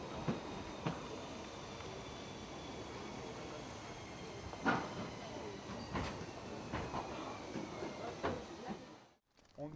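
An Alpine mountain train with a red goods wagon rolling along the rails, a steady rumbling drone with occasional sharp clicks and clanks, moderately distant and fairly faint.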